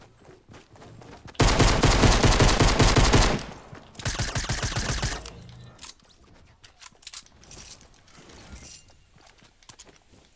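Automatic gunfire in Fortnite Battle Royale, a loud sustained burst of rapid shots followed by a second shorter volley, then scattered quieter clicks and impacts.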